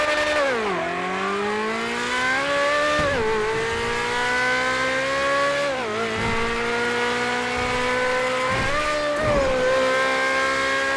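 Flat-plane-crank C8 Corvette Z06 engine in GTA 5, loud and close, with high-pitched revs climbing through the gears and sharp dips at each shift, around four shift cycles in a row.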